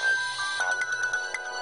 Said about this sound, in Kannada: ನಮ್ಮ ಅಜಿತ ಫೋನ್ ಮಾಡಿದ್ದಾನೆ, ಮಾತಾಡೋಣ.